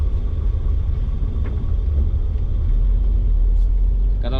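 A 1965 Plymouth Valiant 100 creeping slowly along in second gear, its engine giving a low, steady rumble close by with road noise underneath.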